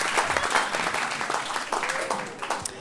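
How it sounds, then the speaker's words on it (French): Audience applause at a comedy cabaret show, a dense wash of many hands clapping steadily close by, with a few brief voices mixed into the crowd noise. "je vois les gars qui applaudissent"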